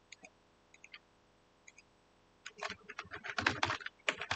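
Typing an email address on a computer keyboard, a few sparse isolated taps at first, then a quick burst of rapid, close keystrokes in the final two seconds.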